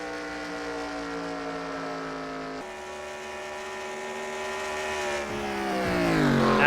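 Race cars in an eNASCAR video game at Chicagoland whine past with rising and falling engine tones, the pitch sliding as cars pass and swelling louder near the end.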